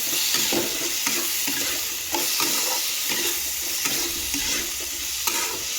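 Ridge gourd and potato with turmeric frying in a pan, a dense, continuous close sizzle with repeated stirring scrapes and light knocks of the spoon throughout.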